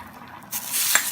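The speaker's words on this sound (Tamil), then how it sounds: "நான் ஊற்றேன் எண்ணெய்." Cooking oil poured into a pan while making Nagercoil-style sardine aviyal, a soft, brief hiss and sizzle building near the end of a quiet kitchen moment, with a faint clink.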